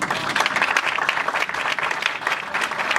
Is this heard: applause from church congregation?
yes